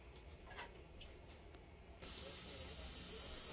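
A pot of coconut rice bubbles and hisses steadily on the stove, the steamy rush growing suddenly louder partway through and continuing as a constant close hiss.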